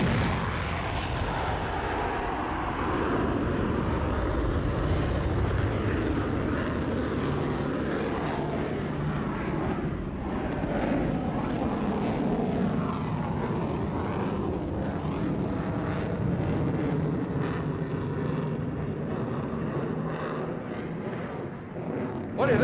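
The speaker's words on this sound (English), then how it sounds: "Gear down, flaps down, simulating a carrier landing." An F-14 Tomcat jet on a touch-and-go simulated carrier landing with gear and flaps down, a loud continuous roaring engine drone that swells and shifts as it passes, with an announcer talking over it.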